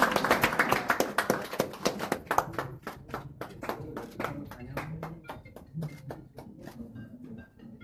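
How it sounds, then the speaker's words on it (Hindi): Loud audience applause at a bodybuilder felicitation ceremony in Hyderabad: a dense burst of many hands clapping that thins into scattered, sparser claps over several seconds. "जोरदार तालियां मैडम"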